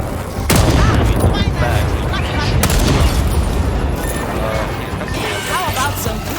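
A grenade detonates in the dinosaur-shooter video game Second Extinction, a sudden loud boom followed by dense continuous gunfire, crashes and chaotic battle noise, with voices shouting over the action.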